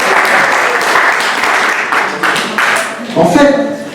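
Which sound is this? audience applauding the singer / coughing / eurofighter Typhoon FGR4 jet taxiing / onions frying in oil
audience applauding the singer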